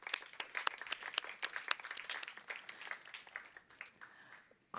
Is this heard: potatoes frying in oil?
no